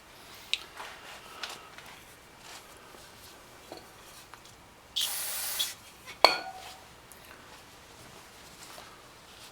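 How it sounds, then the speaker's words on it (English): Brake cleaner sprayed in one short hiss of under a second onto bolt threads during a Mazda brake job, close and sharp, amid quiet metallic clinks and handling noises in a hushed garage. "A little brake clean, just cleaning up the threads on this bolt"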